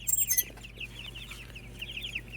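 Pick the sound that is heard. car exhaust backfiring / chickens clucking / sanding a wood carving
chickens clucking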